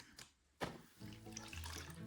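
Water sloshing as a gold pan of paydirt is shaken and rinsed in a tub at home, a brief splash followed by continuous swirling and gurgling water, close and fairly quiet.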